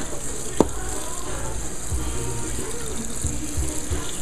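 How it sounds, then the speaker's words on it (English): Tap water runs into a container during tallow soap making, a steady moderate wash of flowing water with a brief knock near the start and faint handling noises. "I'm gonna run some water in here."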